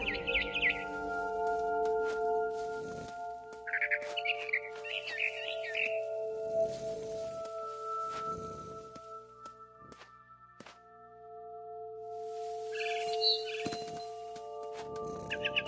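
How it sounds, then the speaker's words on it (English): A barn swallow chirps outside a window in the video game What Remains of Edith Finch. Short bursts of twittering come in three separate spells over soft, sustained background music. "Then I heard chirping outside my window. It was a barn swallow going back to her nest."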